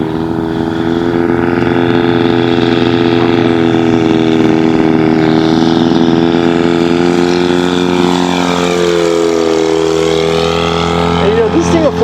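A giant-scale F8F Bearcat model airplane flies overhead with a sustained engine drone that rises and falls in pitch as it passes, and a voice talks along with it.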